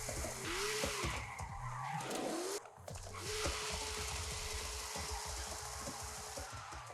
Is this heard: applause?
no